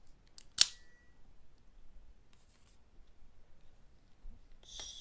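Scissors make a single sharp snip near the start, followed by quiet rustling and a brief scrape at the end, close and clear in a quiet room with no talking.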